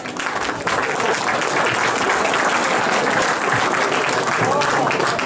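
A large audience at a Renault site inauguration in Aire-sur-l'Adour claps and applauds loudly and continuously, the sound swelling quickly and holding steady.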